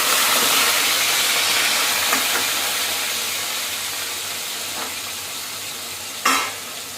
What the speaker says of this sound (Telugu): నూనె కాగిపోయిందండి. ఈ రొయ్యలు అయితే ఇందులో వేసేద్దాం.